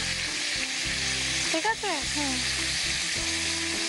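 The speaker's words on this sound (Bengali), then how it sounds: "একটু ব্রাউন ব্রাউন করে ভাজা হচ্ছে" Food frying in a pan until browned, with a steady sizzle throughout and a brief clatter of stirring near the middle; a voice asks a short question partway through.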